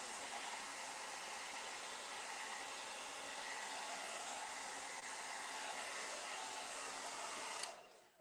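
A high-heat tool blows steadily to dry acrylic paint on a mixed media base, a loud constant whooshing roar that holds for most of the clip, then switches off near the end.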